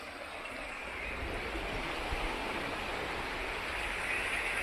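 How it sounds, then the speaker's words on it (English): River water pours steadily toward the top of a waterfall, a dense, continuous rushing roar that stays close and even throughout, with no voices. "waterfall."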